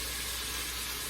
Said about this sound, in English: we're just gonna sear those up, let them sear up a little bit